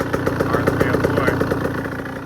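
A 2024 KTM 125 SX two-stroke motocross bike with throttle-body injection and a Pro Circuit R-304 shorty exhaust idles close and loud, with a rapid, steady, buzzing pulse throughout.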